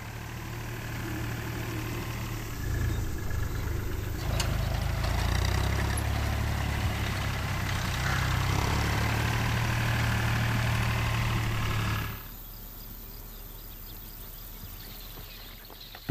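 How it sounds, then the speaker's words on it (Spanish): Tractor engine idling and running steadily in an open field near foraging storks, a low droning rumble that holds for about twelve seconds before dropping to a quieter hum. "Si el tractor hace este cometido por ellas, ya ni siquiera les molesta el ruido del motor."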